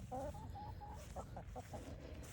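Chickens cluck softly in a quick series of short, clipped calls, fairly close but quiet, over a low background rumble.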